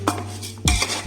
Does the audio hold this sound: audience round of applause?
no